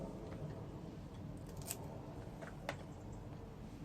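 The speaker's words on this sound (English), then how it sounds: "just snip the roots off." Scissors snip the roots off freshly harvested coriander in a garden, giving two faint, crisp, close cuts against a quiet outdoor background hiss.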